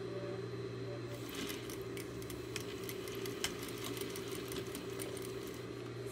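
A sewing machine stitches along a fabric cylinder, its motor humming steadily under a fast run of light mechanical ticks and clicks, fairly close, with no talking.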